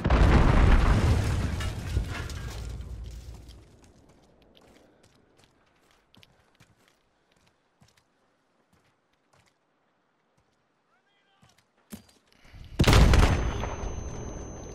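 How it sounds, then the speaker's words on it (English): Grenade explosion in Call of Duty Modern Warfare, a loud booming blast that decays over several seconds, followed by sparse small pops and then a second sharp loud burst near the end. "Hit me with a grenade."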